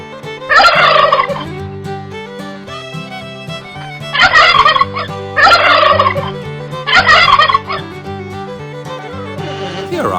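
A turkey sound effect gobbles in four loud rattling bursts with short gaps between them, heard over steady background music while animals are added to a toy farm diorama.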